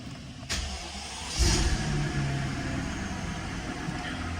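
A Mercedes S600 W221 engine fires up with a click and a swelling roar, then settles into a steady, smooth idle close by.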